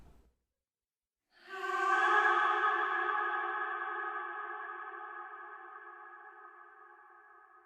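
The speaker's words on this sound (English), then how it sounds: "record in our reversed vocal, which has been put through the reverb unit" A reversed vocal, processed in Ableton Live, swells up from silence into a sustained, heavily reverberated tone that slowly fades, sounding eerie and washed out.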